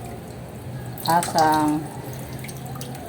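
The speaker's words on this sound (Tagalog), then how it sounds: "kung gripo man ang gamit ninyo, hinaan ang gripo" Tap water runs low into a sink while a fish is cleaned, a steady soft stream with a brief louder splash and a voice speaking over it.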